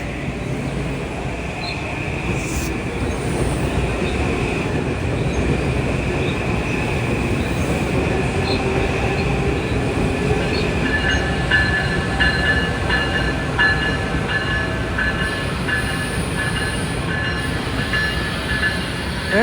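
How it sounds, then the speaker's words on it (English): An Amtrak Regional train pulls into a station on the New Haven Line between Greenwich and Stamford, Connecticut, with a steady, loud rumble of rolling cars, faint wheel squeal and a high whine throughout, with no talk. "Regional train 184 to Boston South Station, now arriving on track 2."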